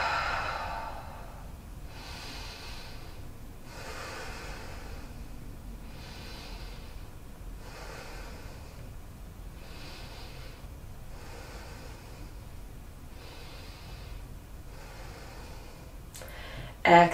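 Slow, deep breaths during a prenatal yoga squat stretch, repeating as soft, airy whooshes about every two seconds, close and steady with no talking.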